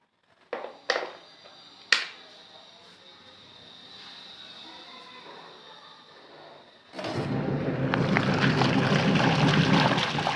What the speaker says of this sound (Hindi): अब मशीन ऑन कर देती हूँ